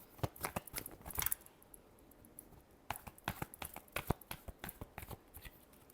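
Tarot cards being shuffled by hand, quiet close riffling bursts of crisp card slaps in two clusters separated by a short pause, faint and intimate with no talking.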